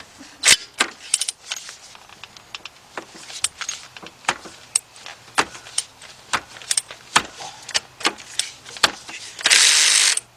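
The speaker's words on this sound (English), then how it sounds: "I'm going to use a 13 millimeter shallow socket 3/8 drive with my 3/8 drive ratchet" A 3/8 drive ratchet with a 13 mm shallow socket working a bolt on a Ford Fiesta engine, sharp irregular clicks of the pawl close by, ending in a brief fast run of clicking.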